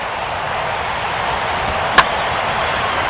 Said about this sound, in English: Now a ball hit foul off to the right and up into the crowd.